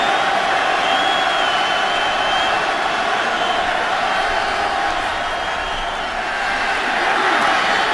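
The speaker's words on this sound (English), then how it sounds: "Crowd is back in this one." Football stadium crowd at a Buffalo Bills game against the Raiders, a loud, dense, sustained roar of cheering voices filling the whole stretch.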